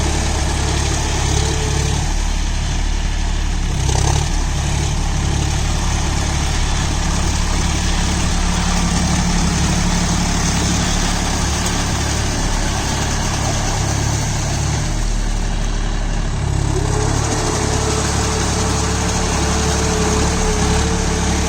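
A John Deere 5050D 50 HP four-wheel-drive tractor on cage wheels mulches a banana field, its engine running loud and continuous with a steady low rumble that swells slightly at times.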